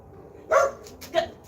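A dog gives two quick, fairly close barks, the second softer than the first.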